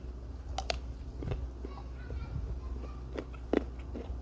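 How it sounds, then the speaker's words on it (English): Someone chews pawpaw fruit with faint, soft, irregular wet bites and crunches against a low background hum, alongside quiet talk. "I need to chew."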